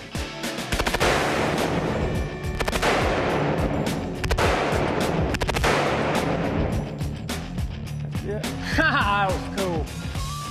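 Gunfire on an outdoor shooting range for a firearms TV show: a dense run of loud, sharp shots cracks out close by, with people talking and shouting over the shooting.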